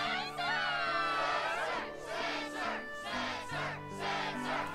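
A video game crowd cheers and roars at a Struggle match in Kingdom Hearts 2, loud and continuous in surging waves.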